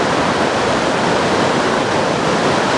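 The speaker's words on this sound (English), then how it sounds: "it's flooded as can possibly be at this moment" Floodwater rushes along a flooded river walk in a loud, steady broadband roar that stays unbroken throughout, close by and with no voices.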